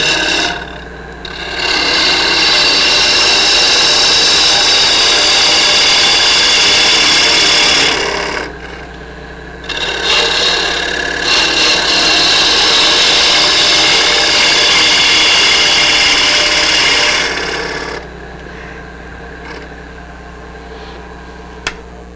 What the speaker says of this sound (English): Let the lathe come to speed before you start your cut.